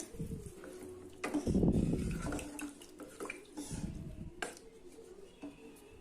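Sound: water being poured into a pot

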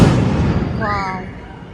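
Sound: firecrackers bursting during Ram temple inauguration celebrations

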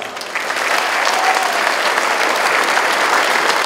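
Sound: applause

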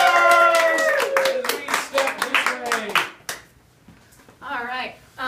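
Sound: audience applause at a live comics show

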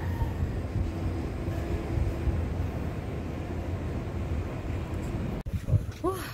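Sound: yellow train passing in Stuttgart, Germany

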